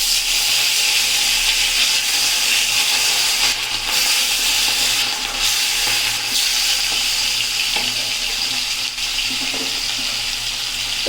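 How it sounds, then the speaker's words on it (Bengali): Rohu fish pieces frying one by one in hot oil, giving a loud, steady crackling sizzle that runs unbroken throughout with occasional sharper spits and pops, no voices. "এখানে তেল গরম হয়ে গেছে, এবার এখানে মাছগুলোকে এক এক করে দিয়ে ভেজে নেব।"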